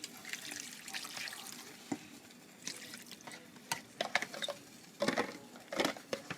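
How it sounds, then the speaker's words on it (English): Water poured into a skillet of seasoned meat, faint pattering and sizzling splashes with soft irregular bursts, close but quiet. "Pour in some water."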